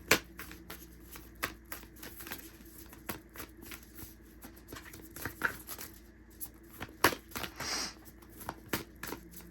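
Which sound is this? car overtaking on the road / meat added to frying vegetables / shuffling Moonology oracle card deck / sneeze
shuffling Moonology oracle card deck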